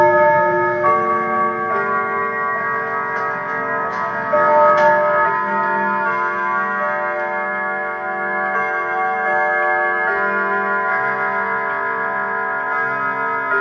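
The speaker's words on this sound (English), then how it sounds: "It's now time for chime time." Clock chimes ring out in a steady sequence of sustained, overlapping bell tones with a soft ticking beneath, close and fairly loud, with no voices.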